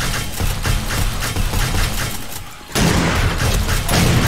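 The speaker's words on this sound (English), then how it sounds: "Turrets are going through a lot of ammo." Automatic turrets in the survival game 7 Days to Die fire in steady, rapid bursts, a dense continuous rattle with a low engine-like rumble beneath, dipping briefly before resuming loud and sustained.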